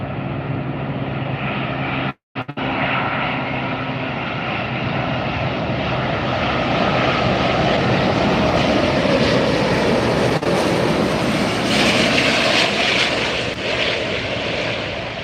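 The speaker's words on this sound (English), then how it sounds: "Lufthansa A380 coming in from Munich." A Lufthansa Airbus A380 landing at LAX airport, arriving from Munich: a loud, steady jet roar that swells and brightens as the aircraft passes close overhead, with no voices.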